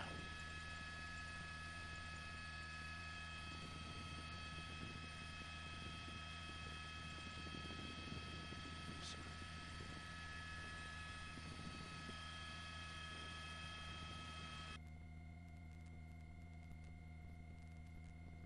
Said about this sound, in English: We're going to swing the helicopter around a little bit.